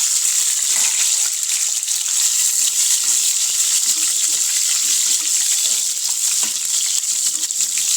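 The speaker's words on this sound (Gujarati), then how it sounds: "તો તેમાં આપણે આ રીંગણા અને બટેકા સાતળી લેવાનું છે" Eggplant and potatoes frying in hot oil, a steady, dense hiss and crackle of sizzling that continues unbroken throughout, close and fairly loud with no talk.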